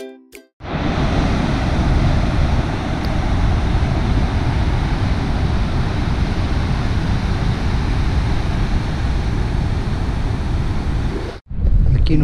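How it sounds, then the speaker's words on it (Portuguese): A loud, continuous roar of a big, building ocean surf breaking fills the scene, heavy and unbroken, with wind buffeting close by. "E o mar tá bonito hoje, mas proporcionalmente tem pouco surfista. Cresceu bem o mar."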